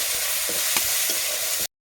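Chopped onions with green and dried red chillies frying in oil in a pan, a loud continuous sizzle broken by the scrape of a spatula stirring, close up with no talk before cutting off abruptly.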